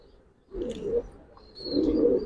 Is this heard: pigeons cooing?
yes